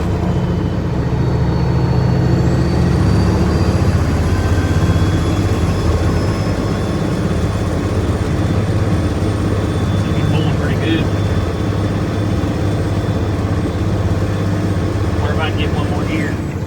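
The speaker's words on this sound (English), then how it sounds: "This would be a good hill to find out if the truck's" A pickup truck engine drones steadily while climbing a mountain hill, a loud continuous low roar from inside the cab that never lets up, with a faint whine running above it.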